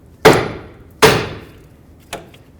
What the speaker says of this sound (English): Hammer this up.